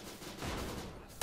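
A sniper rifle fires in the mobile shooter Bullet Force, a brief, fairly faint burst of gunfire noise with a sharper crack right at the end.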